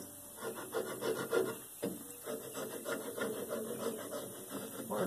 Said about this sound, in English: take a wire wheel and you go over them a few times.